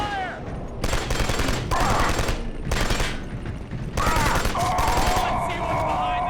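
Heavy gunfire in the shooter Killzone 2, a defence against enemies opening a gate: sustained automatic bursts in several loud stretches, close by, with short pauses and background game effects.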